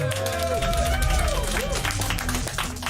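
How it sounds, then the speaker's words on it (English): A crowd applauds and cheers for a DJ being introduced on stage, a steady wash of clapping with excited voices and shouts rising over the noise. "Can I have a round of applause for my next guest?"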